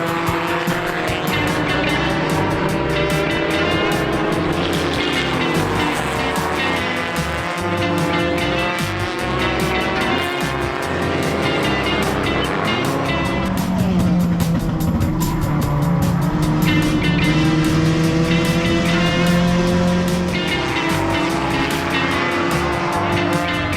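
Race cars lap an enduro oval race, their engines roaring loud and continuous with tires squealing through the turns, one car swelling close by midway, with no talking.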